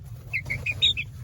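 Chickens in a coop on a mountain homestead give a few short, faint high clucks and chirps in quick succession over a low background rumble.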